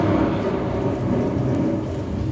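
A staged thunderstorm effect for an animatronic theater show: a steady roar of heavy rain mixed with low rumbling thunder, loud and continuous with no voices.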